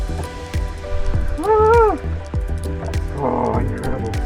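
Hot shower water runs aboard a sailboat during a solo trip to the Whitsundays, a steady close hiss of spray beneath a voice.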